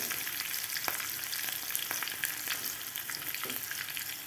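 Green chillies and curry leaves fry in hot oil as a tempering for rava rice dhokla, with a steady, close sizzle and scattered crackles and no talk.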